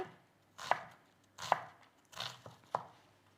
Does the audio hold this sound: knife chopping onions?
yes